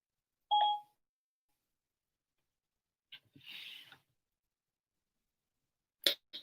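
A phone gives a short electronic beep as its voice assistant switches on. A brief, clear tone comes first, then a few soft clicks and faint blips in otherwise near silence.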